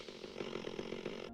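A chainsaw snarls in a Bruce Campbell horror film scene, its engine buzzing steadily with rhythmic surges in pitch, loud and close, before cutting off abruptly.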